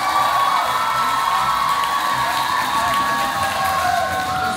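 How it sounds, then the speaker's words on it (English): Audience at a Miss Earth Guam 2010 coronation pageant applauding and cheering for special award winners, a steady, dense roar of clapping with whoops and shouts throughout, loud and continuous. "Let's have a round of applause for all of our special award winners tonight."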